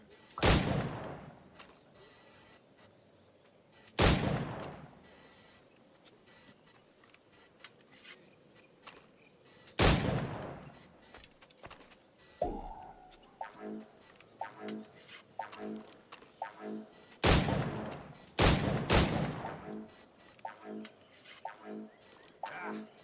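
Shots fired at targets in a timed video game shooting challenge ring out in sharp, widely spaced loud bursts, then a quicker run of smaller repeated pops, with a voice talking between the bursts.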